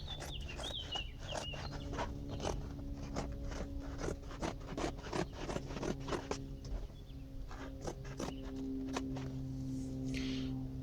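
Repeated short rasping strokes of a blade cutting extruded polystyrene sheet for a pool lining, a steady sawing rhythm of scratchy bursts, close and moderately loud, with a faint low hum underneath.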